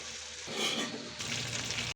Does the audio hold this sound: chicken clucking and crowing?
no